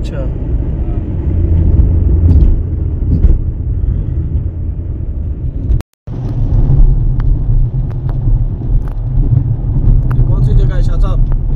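Car engine rumbling steadily while driving on the road toward Wadi Jinn near Madinah, a loud continuous drone with road noise and a brief cut midway; people talk over it.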